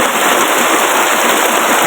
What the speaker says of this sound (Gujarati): ફૂલ વરસાદ ચાલુ